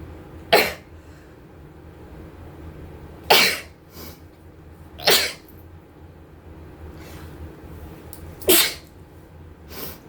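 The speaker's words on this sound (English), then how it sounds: "Every time I get overwhelmed, I start sneezing." Sneezes from a person who sneezes when overwhelmed: four sharp, loud bursts spaced a few seconds apart, alone over a quiet background.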